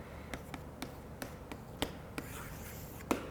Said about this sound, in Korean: 이중, 한자 써볼게요